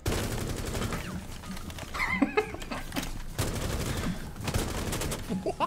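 Rapid gunfire in Rainbow Six Siege, bursts of automatic shots crackling in quick succession across the clip amid game noise, with a horse-like whinny at one point and a player talking over it.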